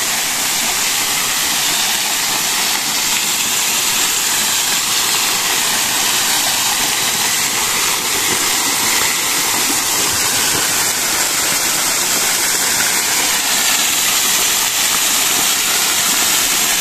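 Murocburoc Falls in Barangay Caratagan, Pioduran, Albay sends rushing water down in a loud, steady, broadband roar that stays unbroken and close throughout, with no talking.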